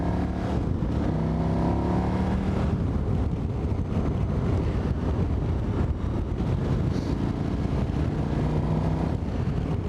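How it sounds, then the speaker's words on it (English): KTM 990 motorcycle engine pulling hard under throttle on an open road, a steady loud roar mixed with heavy wind rush at the microphone, continuous for the whole stretch with no talking. "Doesn't matter what gear you're in, twist the throttle and it just lifts up and goes."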